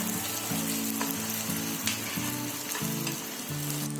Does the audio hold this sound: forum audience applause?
no